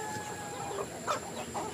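Chickens on a farm raised for tinola, with brief clucking and short calls over a steady background hum, fairly close, no clear crow.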